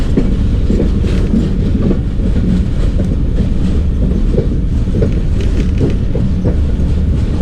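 The Jaffar Express rumbles into Sukkur railway station, a loud continuous roar of wheels and carriages with steady clattering, heard from on board.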